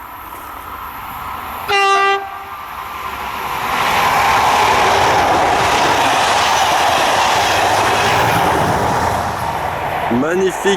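A French Z 7300 (Z2) electric multiple-unit train passes close by, with a short horn blast followed by a swelling, steady rush and rumble of the cars going past. A voice talks briefly near the end.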